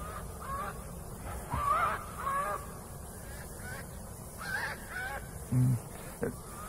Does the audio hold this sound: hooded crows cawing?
yes